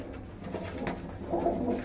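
Soft, low cooing from Punjabi Malwai pigeons with a few repeated throaty calls, the last ones fuller and closer, over a faint background hum.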